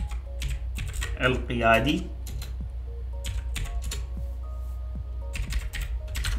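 Computer keyboard keys clatter in quick uneven clusters of close, crisp taps while text is typed into Word, and someone speaks Arabic over part of it.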